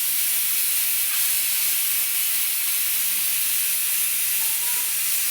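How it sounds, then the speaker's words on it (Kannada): A pressure cooker vents steam in a steady, loud, unbroken hiss that runs the whole time, with no talking over it. "ಏನು ಡೇಂಜರ್ ಏವ ನಿಮ್ಮ ಕುಕ್ಕರ್."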